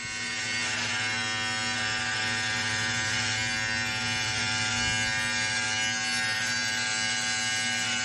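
A Philips Norelco 3100 series electric beard trimmer buzzes at a steady, constant pitch close up, running alone without talk for about eight seconds.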